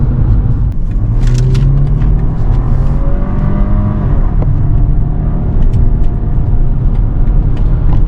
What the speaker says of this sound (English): Let's get it off the highway and see what it's like on a curvy road feel.